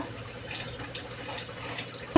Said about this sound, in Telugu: ఇప్పుడు ఒక చిన్న గ్లాస్ నిండా వాటర్ పోసాను మిక్సీ గిన్నెలోనే